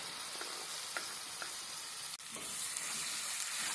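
Ground paste of small onions, garlic and ginger sizzles in hot oil for a brinjal curry, a dense, even hiss close up with a brief stir midway and no talk.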